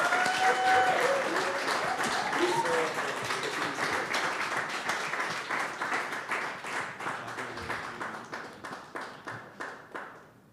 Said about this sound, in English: we have a massive round of applause for Mr. Tshepo Mohlala?